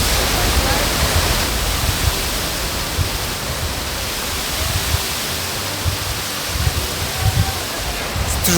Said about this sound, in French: C'est toujours cool les cascades.